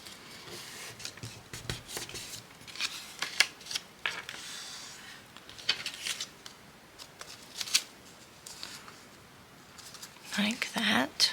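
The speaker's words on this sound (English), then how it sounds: "I'm going to lift this up and I'm going to fold that in." Scrap paper being folded into pockets: close, intermittent crinkles, rubs and crisp creasing swishes of paper, with a soft voice talking in between.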